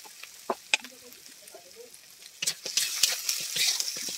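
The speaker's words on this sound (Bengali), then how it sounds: "জিরে বাটা আর ধনে বাটা দিয়ে দিচ্ছি।" Cumin and coriander paste is tipped into a hot pan of turmeric and chili, setting off a rising crackling sizzle, broken by a few clinks and scrapes of a spoon.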